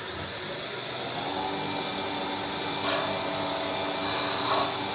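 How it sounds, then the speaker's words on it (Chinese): A wood CNC lathe (STL-5025) spins its spindle while turning a wooden blank into a round rod, giving a steady broadband whirring hum with brief louder cutting swells near the end, heard alone without talk. "我们现在开始手工摁 F1 主轴旋转，然后摁左键"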